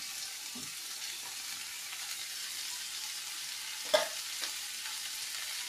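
Tomatoes being stirred into frying onions in a pan for an egg and capsicum curry, a steady soft sizzle with a few scraping stirs and one sharper clink near the end, no talk.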